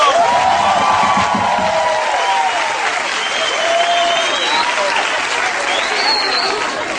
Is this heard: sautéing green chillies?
no